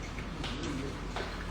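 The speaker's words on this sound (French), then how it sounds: "Les oiseaux chantent ce matin." A bird coos softly outdoors in the morning, a short, low call repeated a couple of times over faint background noise, with no one speaking.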